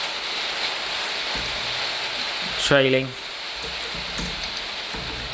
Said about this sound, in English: that is really raining now